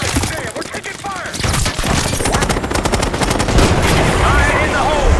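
Rapid automatic gunfire in a Call of Duty Black Ops 6 firefight, dense volleys of shots rattling continuously and loudly across the whole stretch, with battlefield noise and voices underneath.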